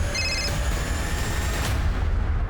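A telephone rings inside a home, a short burst of warbling electronic tones at the start that gives way to a low background rumble with no talking.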